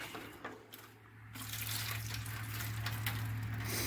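Dirty degreaser liquid drains out of an old gas can with a continuous splashing trickle. A low hum sits underneath, and the pour grows steadier and slightly louder.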